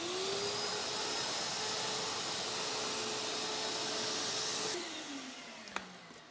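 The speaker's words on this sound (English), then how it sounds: "so I'm going to go vacuum that as well" A vacuum cleaner runs steadily, close and loud, cleaning debris off the outside of a DIY outdoor cat shelter, then powers down and winds off near the end.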